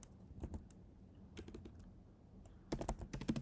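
Someone types a terminal command on a computer keyboard to start a new Laravel project, with close, crisp key clicks in short bursts and a faster flurry at the end.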